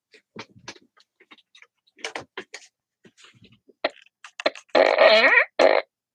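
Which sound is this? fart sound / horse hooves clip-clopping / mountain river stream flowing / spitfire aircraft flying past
fart sound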